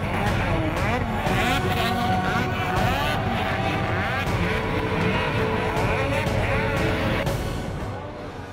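Race cars on a circuit during a lap battle for the lead, engines roaring loud and continuous with rising and falling revs throughout, fading slightly at the end.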